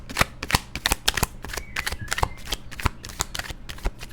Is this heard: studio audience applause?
no